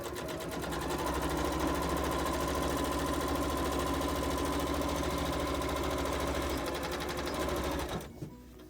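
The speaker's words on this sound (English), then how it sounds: "So now we're going to put a 1/4 inch seam on the transport bag" A sewing machine runs a quarter-inch seam on a transport bag, a steady, close mechanical hum with a fast rhythmic stitching chatter that continues for about eight seconds before halting.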